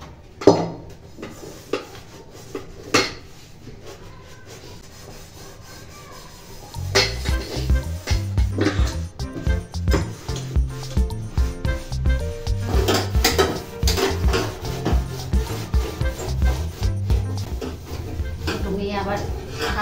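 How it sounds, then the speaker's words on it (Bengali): Dishes, pots and pans clatter in a home kitchen as a wok is scrubbed and washed, a few sharp clinks giving way to steady, busy scrubbing and rattling, with people talking over it. "এখন আমি শুধু এই গ্যাসটা পরিষ্কার করব আর কড়াইটা মেজে নেব।"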